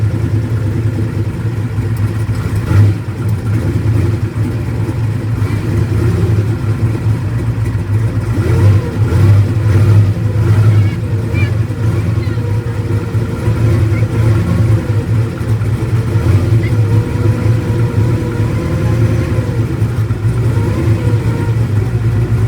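A turbocharged Mustang race car with a freshly installed tune runs loud and close, with a lumpy, rough idle broken by occasional rev blips.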